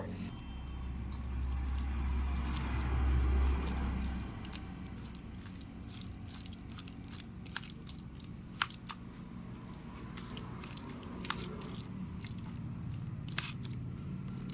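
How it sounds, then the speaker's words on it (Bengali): Peeled roasted eggplant and tomato being mashed by hand for begun bharta, giving soft wet squishing and squelching with small clicks, close and steady over a low hum, no talk. "বেগুন আর টমেটোর খোসা ছাড়িয়ে নিয়েছি, এবারে খুব ভালোভাবে মেখে নেব।"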